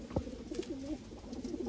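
A Malwai pigeon held in the hand gives a single low coo, soft and close, over a faint background hum.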